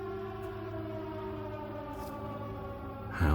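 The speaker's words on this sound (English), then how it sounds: "it's almost like some kind of odd siren" An odd siren sounds outside, a sustained, steady multi-tone wail held for several seconds at a moderate distance, with a louder thump near the end.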